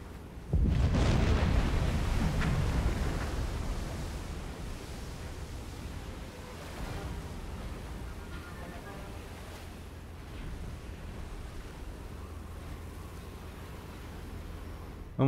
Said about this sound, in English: Oh my god, that torpedo has actually snapped it in two.